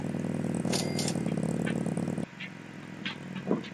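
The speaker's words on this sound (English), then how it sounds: "Somebody on a motorbike keeps on driving past." A motorbike passing by outside, its engine humming steadily before cutting away abruptly, leaving quieter background noise with a few faint knocks.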